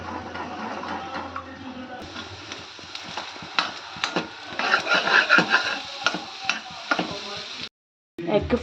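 Egg sizzling and frying in a pan for garlic fried rice, with steady crackling broken by scraping and stirring clatter and a brief silent gap near the end.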